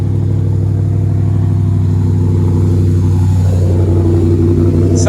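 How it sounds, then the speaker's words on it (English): A 2023 Ford truck engine, either an F-350 Tremor or an F-150 Raptor R, runs loud and close after a cold start, holding a deep steady idle that swells into a rev near the end. "do a little cold start here, see what it sounds like."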